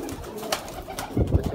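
Sialkoti pigeons coo softly in a short burst of low throaty calls close by, with faint rustling between them.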